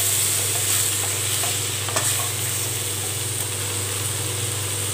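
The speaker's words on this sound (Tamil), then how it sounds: "கிரேவி வந்து நல்லா வதக்கிக்கணும்" Tomato gravy for oily brinjal kuzhambu sizzles steadily in a pan while being stirred, with a continuous close frying hiss and occasional scrapes of the spoon, no talking.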